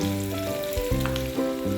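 Hot oil sizzles steadily as green chili pieces and curry leaves fry for a tempering, with a sharp crackling burst partway through and a continuous loud hiss throughout.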